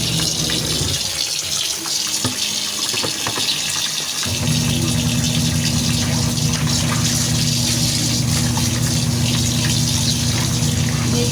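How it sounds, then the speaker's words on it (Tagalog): Water runs steadily from a tap in a bathroom while laundry is washed, a continuous close splashing rush that starts after a few seconds of quieter handling sounds. "Dito na po ako nagwawasin sa loob ng banyo."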